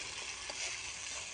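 Ground tomato and onion paste fries in oil for a kurma in a village kitchen, giving a steady, faint hiss and sizzle with no voices.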